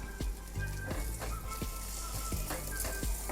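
Curry leaves dropped into hot oil for a rasam tempering, giving a steady crackling sizzle with soft pops and spatters, close and even throughout.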